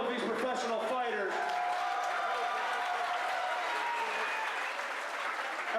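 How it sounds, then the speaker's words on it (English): After a professional fight, an arena crowd applauds both fighters with sustained clapping and cheering, while an announcer's amplified voice carries over it at first. "a big round of applause for both of these professional fighters"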